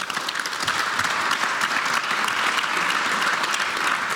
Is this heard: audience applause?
yes